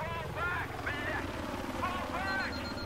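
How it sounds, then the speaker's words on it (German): A helicopter flies nearby in Battlefield 3 multiplayer on Xbox, its rotor throb pulsing steadily under busy game noise and someone talking in German. "Da ist ein Heli. Ich höre ihn doch."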